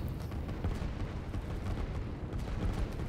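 Artillery fires in a strategy video game, a dense run of muffled booms and bursts of gunfire layered over one another at moderate volume, without voices.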